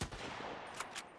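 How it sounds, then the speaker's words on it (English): Gunfire in the survival game Sunkenland, a steady run of rapid shots with a few sharper cracks standing out near the end, fairly faint and continuous. "Go ahead and shoot. Start shooting."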